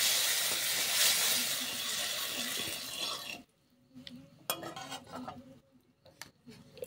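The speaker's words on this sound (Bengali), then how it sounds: "লবণটা একটু নাড়িয়ে নেব।" Salt being stirred through hot ghee in a wok: a spoon scrapes and clinks against the metal over a steady sizzle, which drops away partway, leaving quieter scattered scrapes and taps.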